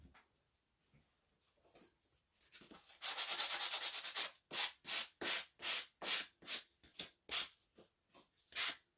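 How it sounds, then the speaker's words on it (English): Sandpaper rubs along the rough edge of a house-shaped cutout, first as one long continuous scrub and then as a steady run of short back-and-forth strokes, close and fairly loud, with no talking. "Just sand off that rough edge."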